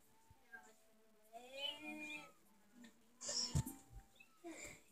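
A cat meows twice, a rising, wavering cry near the start and a shorter, sharper one midway, heard close amid faint background noise during a Legend of Zelda: Skyward Sword gaming session.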